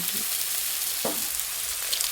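Eggs fry with vegetables and spices in a pan, giving a close, steady crackling sizzle with a faint stirring scrape partway through.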